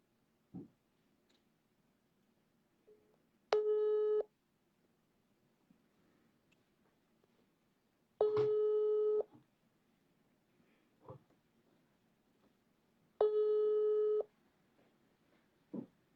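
Telephone busy signal heard while calling back a dropped guest during a live interview: three separate bursts of the repeating tone, each about a second long, spaced several seconds apart over a quiet background with faint ticking.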